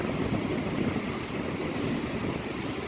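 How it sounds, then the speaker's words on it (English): Storm wind and pouring rain rush in a dense, steady roar, loud and close, with no voices. "Between the train and the wind and the rain. It's pouring on me."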